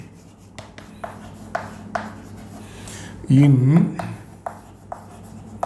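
Chalk or marker taps and scratches on a board in a thermodynamics lesson, short strokes written in quick succession, with a voice lecturing over them.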